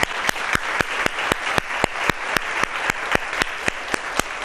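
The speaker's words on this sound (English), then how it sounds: "I wanted to give them another round of applause" A roomful of people at a city State of the City address applauds for council members, with strong, evenly spaced claps standing out over a steady wash of clapping, loud and continuous.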